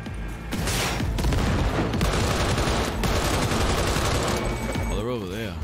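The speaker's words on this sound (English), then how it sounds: "Getting shot here? Who's shooting?" Heavy automatic gunfire rattles through a Cyberpunk 2077 firefight on PS5, a dense continuous fusillade of rapid shots with booming impacts, loud and close, easing into a warbling tail at the end.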